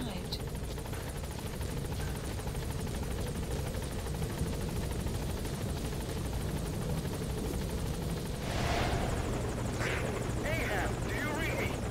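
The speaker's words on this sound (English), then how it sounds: "Support helicopter has arrived." A support helicopter arrives in the video game Metal Gear Solid V: The Phantom Pain, its rotor a steady, dense chopping drone throughout, with a voice speaking over it.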